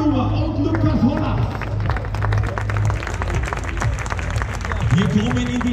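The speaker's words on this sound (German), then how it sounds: "Ein Applaus für Marie-Louise Müllhuber und Lukas Holler." A crowd applauds trail award winners at a Gaisberg trail-running season finale, steady massed clapping mixed with crowd murmur and some background tones, sustained throughout.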